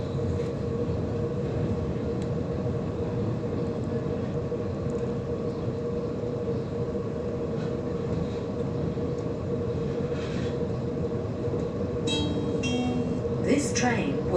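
A Sydney T3 Bankstown Line train runs around the Birrong bend with a steady, loud rumble throughout, and a brief high squeal of wheels near the end.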